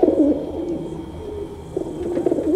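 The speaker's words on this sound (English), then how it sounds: "Pigeon sounds." Pigeons cooing in soft, low repeated phrases, fairly close, over a steady background hum with a few faint chirps.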